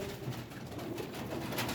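Lal pari jaldar pigeons give a continuous soft cooing, low and rolling, under a wash of background noise, faint and somewhat distant.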